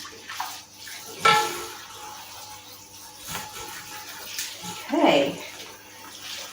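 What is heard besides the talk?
rinsing shampoo out of hair with running water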